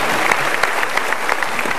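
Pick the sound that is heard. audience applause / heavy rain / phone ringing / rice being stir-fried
audience applause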